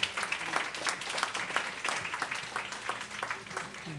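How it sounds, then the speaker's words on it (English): A crowd claps steadily for graduates at a graduation, a dense patter of many hands filling the room without pause. "Let's give our graduates another round of applause"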